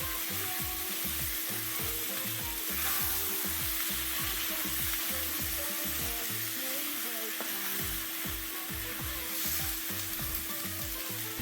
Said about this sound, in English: I'm going to add the chilies and everything, and use the moisture from the chilies to deglaze the bottom of the skillet.